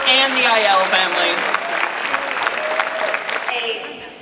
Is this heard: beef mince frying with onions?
no